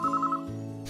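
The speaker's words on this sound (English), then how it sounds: "You both fell silent as soon as the phone started ringing." A telephone rings in the Sharin no Kuni visual novel game, a brief electronic ring tone with a steady buzzing pulse over a low music bed.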